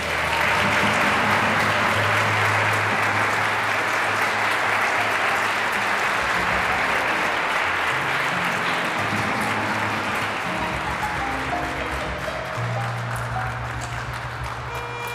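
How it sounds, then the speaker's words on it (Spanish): Wedding guests applaud the newly married couple, Hugo and Cynthia, right after the ceremony in church, a sustained full burst of clapping from a crowd that carries on evenly. "Vamos a darles un fuerte aplauso."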